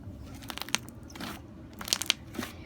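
Crunchy slime squeezed and worked between fingers, giving a run of sharp, close crackling crunches in irregular bursts with soft squishing between, no voices present.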